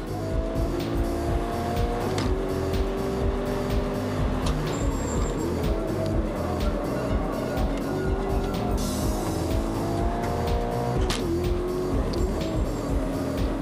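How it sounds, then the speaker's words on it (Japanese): A Toyota 86/BRZ race car at Okayama circuit, its engine roaring continuously from inside the car, with tires scrubbing as the rear slides and a few abrupt pitch drops where it shifts up, loud and close. "ここも引っ張り切らずに1回3に上げてますね"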